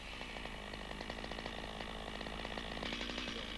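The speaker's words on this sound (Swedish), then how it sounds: "Tryck på sågens bakre handtag och såga med skjutande kedja." A chainsaw limbs a tree trunk, its engine held at high revs in a steady, close, buzzing whine with rapid chain pulsing as it cuts.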